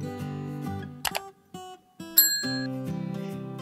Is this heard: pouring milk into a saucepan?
no